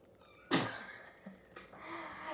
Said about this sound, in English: Okay, sorry about that. It was the kitties.